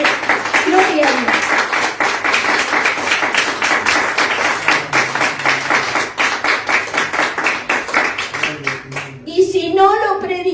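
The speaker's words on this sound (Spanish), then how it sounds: "Dale un fuerte aplauso al Señor" Church congregation clapping during a worship service, loud rhythmic applause running steadily through the whole stretch, with voices speaking and shouting over it and a short sung or spoken phrase near the end.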